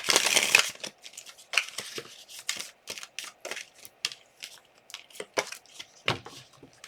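A tarot card deck is shuffled by hand, giving an irregular run of crisp riffling and slapping bursts, close and fairly quiet, with short pauses between them.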